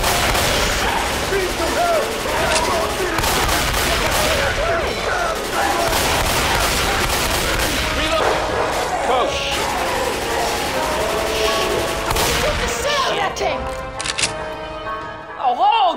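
Grenade launcher blasts and rapid gunfire from the zombie shooter Left 4 Dead 2 in a police department level, loud and dense for most of the stretch, with crashes and game voices talking over the chaos.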